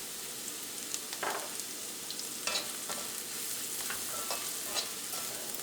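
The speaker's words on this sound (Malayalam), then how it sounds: "അപ്പോൾ മഞ്ഞൾപ്പൊടി എണ്ണയിൽ കിടന്ന് നന്നായിട്ട് മുരിഞ്ഞിട്ടുണ്ട്" Turmeric powder fries in oil over a medium flame while a spoon stirs it now and then, giving a steady soft sizzle with occasional scraping strokes, close and even.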